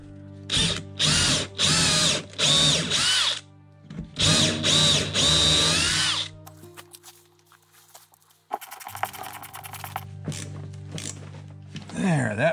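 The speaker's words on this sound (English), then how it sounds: "make this mechanical fastening with" Power drill driving a machine screw into the wooden hull of a Chris Craft boat: repeated loud whirring bursts in a stop-start rhythm, then a longer run and a few ratcheting, clattery handling noises at close range.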